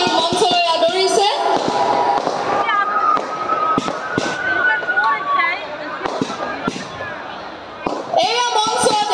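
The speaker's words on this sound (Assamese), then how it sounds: "আতচবাজীৰে বিহু সম্ৰাজ্ঞী গৰাকীক মঞ্চলৈ আদৰিছে" Fireworks burst at a Bihu stage event as the Bihu queen is welcomed on stage, with sharp cracks and pops scattered through a loud, busy crowd while people talk and call out over them.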